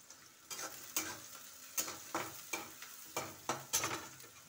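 Chopped onion fries in a pan for a rustic palak paneer, with a steady soft sizzle broken by a run of sharp scraping stir strokes every half second or so. No voices.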